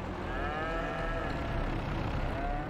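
Cows in the Farming Simulator 22 video game moo in a long, low, sustained call that fills the whole stretch, loud and close with no talk.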